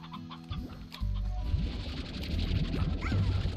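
Chickens cluck in the video game Slime Rancher, with quick short clucks repeating close by over a steady low rumble of game background noise.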